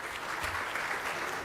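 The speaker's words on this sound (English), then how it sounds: "Round of applause to our speaker." A conference audience at a women's event in Bahrain applauds a speaker, with steady, moderately distant clapping that fills the short moment without pause.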